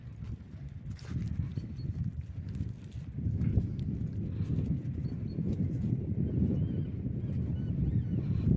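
Steady hoofbeats of a stallion clip-clopping on a hard surface, continuous throughout, with low rumbling wind noise in the background.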